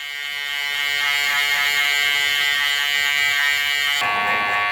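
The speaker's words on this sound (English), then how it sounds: "Shaver. I'm going to go over the bottom there as well." An electric shaver drones steadily through a fade haircut, a close, loud, continuous buzz that changes tone near the end as it shifts against the hair, with nobody speaking.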